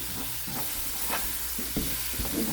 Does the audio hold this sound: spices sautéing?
yes